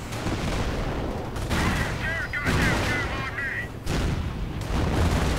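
Continuous gunfire and booming explosions in a WWII strategy video game battle, a dense, loud barrage of rifle and machine gun shots with artillery blasts and a brief whistling sound partway through.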